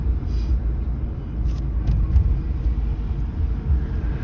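Tata Nexon AMT petrol car cruising slowly at about 33 km/h, giving a steady, loud, low cabin rumble of engine and road noise with no talk.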